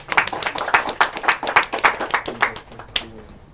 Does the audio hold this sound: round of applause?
yes